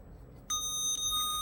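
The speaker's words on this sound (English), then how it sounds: "Oh, we are beeping." A high, steady electronic beep from a Pebblebee Bluetooth tracker tag starts after a short quiet moment and holds with a brief dip midway, thin and clear over faint background noise.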